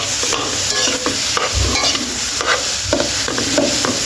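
Mashed potato cutlet mixture with raw tomato and onion is stirred and pressed in a bowl, giving rhythmic squelching and scraping strokes with occasional dull thumps, close and fairly loud; no talking.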